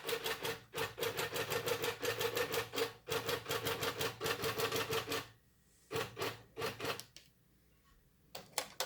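A ProStitcher-controlled longarm quilting machine bastes down the top of a quilt with fast, regular mechanical stitching pulses, runs for about five seconds, then slows into scattered single stitches and short pauses.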